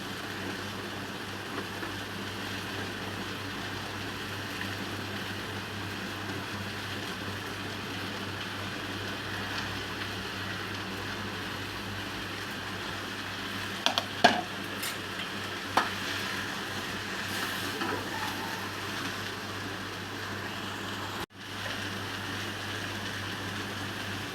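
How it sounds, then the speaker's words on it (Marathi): Chopped okra (bhendi) added to a hot pan sizzles steadily in a home kitchen, a continuous even frying hiss with a few brief stirring clicks partway through, no talking. "आता मी यात ही अशी चिरून घेतलेली भेंडी घालते."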